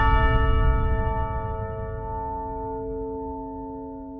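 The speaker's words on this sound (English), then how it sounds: "For the bell hits, I combined tubular bells, one each an octave apart, with a sub-bass cloud hit from Ashlight for added profundity." Tubular bells struck in octaves and layered with a deep sub-bass cloud hit, one loud resonant strike ringing out in a long sustained decay, a profound orchestral bell tone from Elden Ring open-world music.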